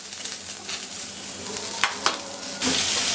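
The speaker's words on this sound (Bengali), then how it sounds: "নারকেলটা লাল লাল করে ভেজে নেব" Coconut frying in a pan with oil, a steady close sizzle broken by a few sharp scraping stirs, rising to a denser hiss near the end.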